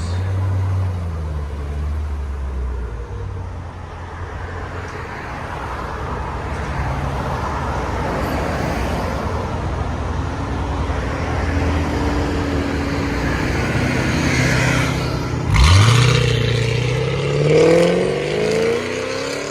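A 2005-2009 Ford Mustang GT with a 4.6L V8 and Valvetronic Designs universal mufflers rumbles loudly at close range, its exhaust building through sustained revving toward a stronger burst near the end.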